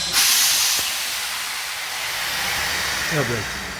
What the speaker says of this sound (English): the exhaust steam is shot up the nozzle right below the bottom of the smokestack